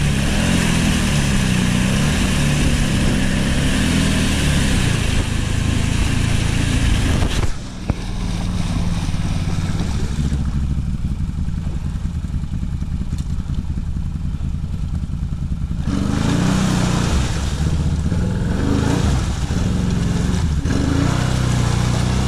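A lawn mower cuts grass in a meadow with a loud, continuous engine roar that varies in strength, broken by short dips and gusts of wind noise on the microphone, with no talk.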